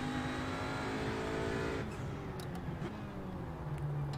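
Audi RS3 race car engine in iRacing at Oran Park, a steady droning engine tone with sustained harmonics that drop in pitch midway as it settles into a lower hum, with faint tire noise.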